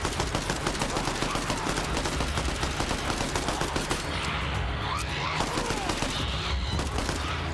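Rapid gunfire rattles continuously through a zombie video game, dense bursts of automatic shots with faint voices in the background.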